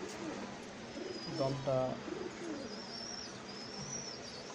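Pankhi pigeons at a pigeon sale coo softly in a short burst near the middle, close by and partly beneath someone talking.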